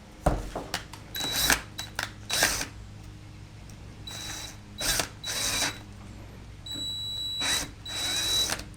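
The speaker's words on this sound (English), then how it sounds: "drill right where that pilot hole is. And it's going to go in kind of quick, so just be gentle. This is soft material, this Cpvc." Power drill boring into soft CPVC pipe, heard as several short whirring bursts with brief pauses between, close and fairly loud, with mechanical clicks in the gaps.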